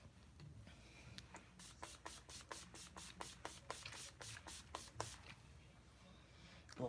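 Makeup setting spray hisses out in a rapid series of about a dozen short, evenly spaced spritzes, quiet and close.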